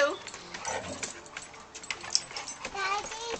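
Several furry dogs play together at home, with short yips, whimpers and scuffling bursts close by, while a child and an adult talk over them.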